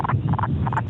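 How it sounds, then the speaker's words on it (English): Northern leopard frog calling outdoors in spring wetland habitat, a close, steady low snoring croak with a few rising bursts of rattling overtones across a one-second stretch. "northern leopard frog."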